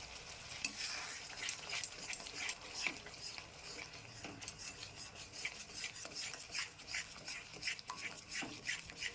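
Steady scraping and stirring of a spice paste frying in a pan as whisked sour yogurt goes in for a vegetarian potato curry (aloo dum), with continuous sizzle and repeated utensil rasps close up.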